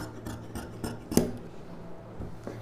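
Scissors snipping through doubled silk blouse fabric while a puff-sleeve blouse is being cut, giving a few soft, separate cuts with one sharper snip near the middle, close by and fairly quiet.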